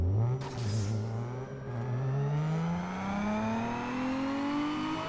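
Infiniti G35 with a 3.5L V6, heard in Need For Speed Underground 2 on a dyno, revs up in one long, rising pull, the engine note climbing steadily and loudly with no talk over it.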